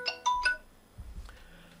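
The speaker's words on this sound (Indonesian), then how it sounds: "ada telepon masuk sebentar ya" A phone ringtone for an incoming call sounds during a live weekly stock-market forecast talk: three bright chiming tones close together open the clip, then fade into low background rumble and quiet noise.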